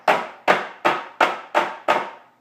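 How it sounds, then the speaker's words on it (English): A cupcake tin is dropped onto a kitchen counter six times at an even pace, each drop a sharp, close knock that rings briefly and fades before the next. "lift up your cake pan or your cupcake tin and lift it about ½ an inch to an inch and then drop"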